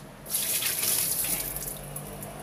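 Tap water runs steadily into the tub of a Samsung washing machine during cleaning, a close, continuous hiss and splash with no talk over it.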